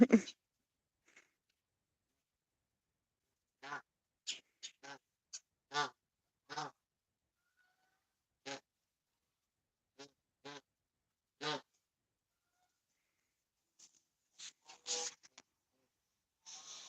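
Scattered short, harsh honks from geese, arriving in brief clusters separated by quiet gaps, fairly close and distinct.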